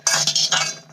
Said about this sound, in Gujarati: આ મીઠાને આપણે સિંગમાં સરસ રીતે મિક્સ કરી લઈશું